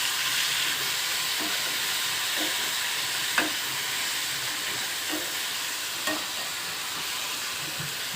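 Small cucumber pieces cook in hot oil in a pan for a tomato-peanut chutney, giving a steady, even sizzle with a few soft clicks of a stirring spoon and no voices.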